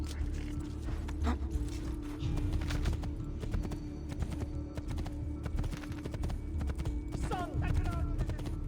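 A horse's hooves clip-clop in Assassin's Creed II, a quick, steady run with a whinny partway through, fairly quiet beneath game ambience.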